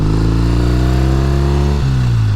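A 1969 Triumph T120R motorcycle engine revs close and loud, a steady throaty drone that dips briefly near the end before settling into a slightly deeper note.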